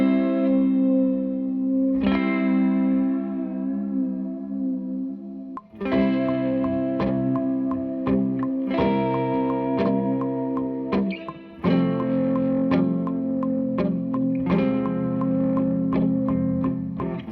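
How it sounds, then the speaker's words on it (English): An electric guitar runs through an Eventide H90 pedal with chorus and delay, playing a melodic part for an alternative R&B beat; loud, shimmering plucked notes and chords ring out with echoing tails and no talking. "I'm actually using a pedal on my pedal board called the Eventide H90."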